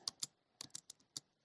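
Quick bursts of typing on a computer keyboard, about seven crisp key clicks in an uneven rhythm, close and quiet, with no voices.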